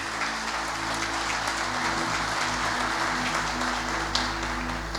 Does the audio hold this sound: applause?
yes